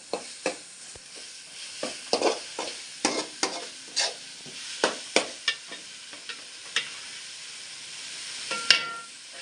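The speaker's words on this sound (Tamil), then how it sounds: "அடியில் பிடிக்காமல் கிண்டிகிட்டே இருக்கணும்" A spoon or ladle stirs squid curry in a pan with a steady, irregular series of scraping clicks over a soft sizzle, close and fairly loud. No speech.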